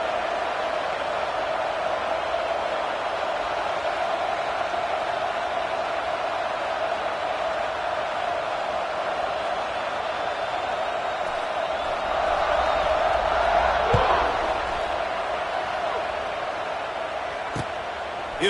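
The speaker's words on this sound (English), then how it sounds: "this crowd is buzzing after that last score" A football stadium crowd buzzes with a steady, distant roar during a kickoff, swelling briefly into louder cheering before settling back into constant murmur.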